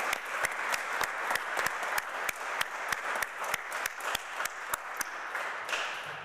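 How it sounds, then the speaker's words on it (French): Audience applause at a Christmas Eve vigil, sustained and fairly close, with sharp individual claps standing out from a dense wash of clapping for the full stretch. "on peut, je pense, applaudir."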